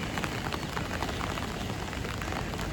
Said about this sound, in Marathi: पाऊस काय नाही थांबणार आज.